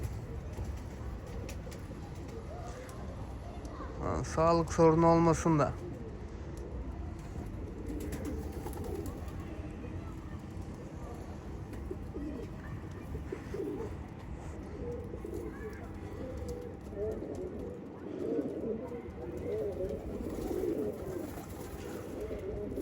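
Pet Mardin pigeons coo in one brief rolling burst early on, then soft bird sounds continue faintly under someone talking.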